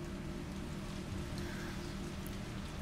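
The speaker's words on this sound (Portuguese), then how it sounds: "Tá chovendo" Steady rain falling in the opening apartment scene of the Resident Evil 3 Remake video game, a continuous even patter with a low hum underneath, unchanging and without any speech.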